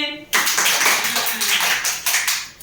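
Hands clap in a quick, loud, uneven series of sharp slaps close by, with a voice heard briefly at the start.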